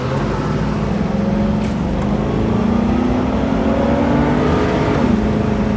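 A 2003 Chevrolet Suburban with the 8.1 engine revs steadily, a loud close low engine roar with rising and falling tone as it accelerates, continuous and alone.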